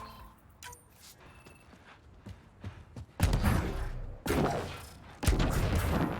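Gunfire in the sci-fi shooter Mass Effect Andromeda: after quiet, scattered thuds, three loud, dense bursts of shots hit around the middle and near the end, close and heavy with no talk over them.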